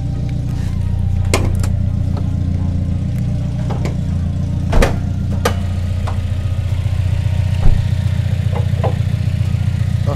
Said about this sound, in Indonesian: Walaupun knalpotnya berisik, tapi mesinnya masih garing banget.